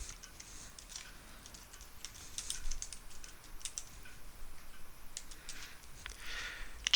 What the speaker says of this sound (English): Type in the title of the class.